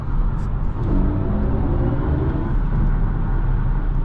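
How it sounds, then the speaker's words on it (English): Artificial drive sound from a 2022 BMW i4 M50 electric car in sport mode, a loud, steady low synthetic hum with rising tonal layers, heard from inside the cabin with no talking. "I love the artificial noise coming from this car"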